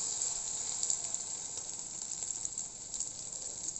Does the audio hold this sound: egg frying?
yes